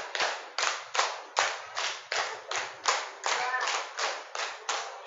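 A group of people clap in unison in a repeated five-beat pattern, three rounds, during a teacher-training session; sharp, loud, evenly spaced claps with no talking over them.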